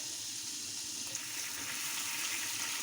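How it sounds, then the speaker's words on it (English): Marinade poured into a hot pan holding the juices left from cooked venison, deglazing it with a steady, close hissing sizzle and running-liquid wash that lasts throughout without pause; no one speaks. "I'm just going to deglaze the pan"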